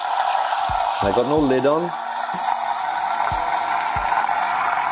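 A MiiXR electric vortex shaker runs with a steady motor whir, broken by a few soft knocks and a short spoken remark.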